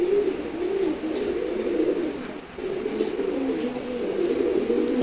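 A male Chila pigeon coos nearby in low, repeated rolling phrases that run almost continuously, with a brief pause midway and faint background noise.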